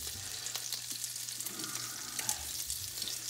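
Shrimp, deveined with tails left on, frying in a pan with a steady, close hiss and crackle of sizzling oil throughout, alone without talk.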